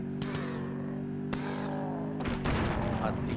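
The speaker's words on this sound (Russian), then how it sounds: "Отличный взрыв, отлично." Explosions go off in a cars-versus-zombies video game: several sharp, booming blasts break through a steady droning game soundtrack and engine hum.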